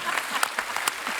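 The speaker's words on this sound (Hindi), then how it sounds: "जोरदार तालियां हो जाए हमारे मेहमानों के लिए" Studio audience at a Hindi talk show clapping for guests, a brief, bright burst of dense applause with a few sharp individual claps standing out.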